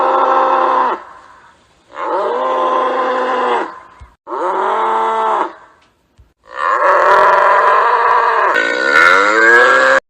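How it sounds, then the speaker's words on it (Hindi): A cartoon buffalo bellows loudly in four long, deep moaning calls separated by short pauses, the last one rougher and noisier, close and dominant with no speech. "भैंस के जोर से चिल्लाने की आवाज सुनकर वहां पर एक इच्छाधारी नागिन आ जाती है।"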